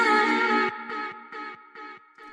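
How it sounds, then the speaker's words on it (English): Filtered vocal effects in a light drill beat: one long, bright harmonic vocal tone, then four short, chopped repeats of it in a steady rhythm, each trailing slightly, loud and heard alone. "But we've got some vocal effects that sound like this,"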